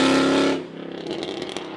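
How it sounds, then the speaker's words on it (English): A catless Mercedes CLK63 Black Series with long-tube headers roars loudly up close under acceleration, then the engine note cuts back sharply to a rougher, crackling idle-like rumble. "this car is CATLESS with long tube headers. And so it sounds like that."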